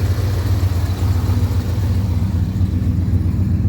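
An old Ford F-series truck engine idles on bad gas with a deep, steady rumble, loud and close, its low throb continuous throughout.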